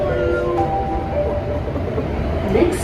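A passenger train in Singapore carries riders along with a steady rolling rumble and clatter, while faint voices come and go in the background.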